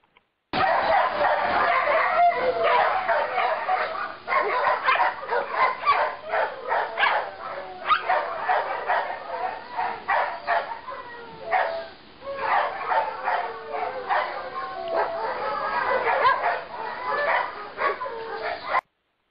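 A shelter dog barks, yips and whimpers almost without pause, with excited, uneven bursts of sound carrying on for the whole stretch at close range.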